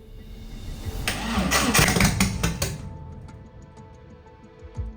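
A 300HP turbo engine in an abandoned 80s supercar cranks and fires, a close, loud rumbling of several rough combustions that fades into quiet with faint ticks afterward.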